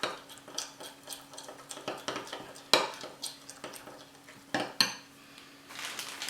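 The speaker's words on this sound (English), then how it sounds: "As long as you've got some peanut butter and some butter, we're just going to mix that together." Peanut butter and butter being mixed together in a bowl, with a series of close clinks and scrapes of utensil against dish, one sharp knock standing out, no talking.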